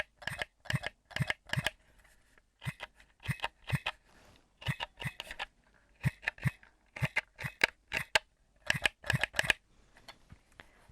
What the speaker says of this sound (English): there is like a short, sharp like vibration every time you press a button